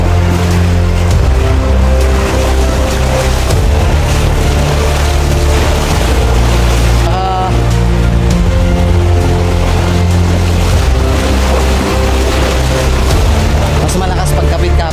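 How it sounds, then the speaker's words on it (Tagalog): Rushing river water surges through a forest crossing, a loud, continuous roar with deep low rumble and a few heavier bursts, while people talk over it. "Grabe yung ragasan ng tubig."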